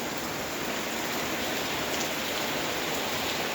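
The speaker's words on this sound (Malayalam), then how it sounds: "രാത്രി മഴ പെയ്യുമ്പോൾ" Night rain falling steadily around a house sit-out in Kerala, a dense even hiss of heavy rainfall on surfaces, close, loud and unbroken throughout with no voices.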